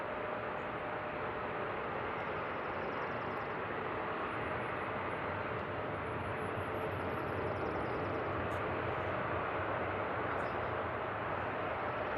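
An Air France airliner passes at Seattle airport with a loud, steady broadband roar of jet engines holding constant throughout, close and continuous, with no voices present.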